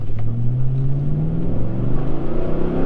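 GMC Sierra full-size pickup with a 6.2-liter V8 and aftermarket exhaust, revving steadily with a deep, loud rising engine drone close by, no talking.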